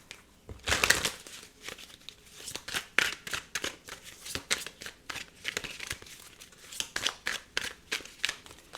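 A tarot deck is shuffled and cards are drawn, giving close, crisp riffles and papery flicks in quick bursts throughout, with no talking.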